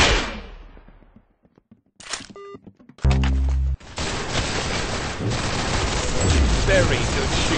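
Gunfire in the video game Arsenal, with short synthetic bursts and shots, a loud blaring tone, then a dense stretch of rapid firing and impacts mixed with game effects.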